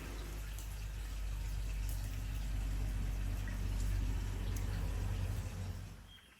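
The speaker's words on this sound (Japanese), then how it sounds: "今日もこんこんと水が湧き出しています。" Spring water wells up at the source of the Seine in rural France, making a continuous soft gurgling and trickling flow, low and steady throughout, with no voices.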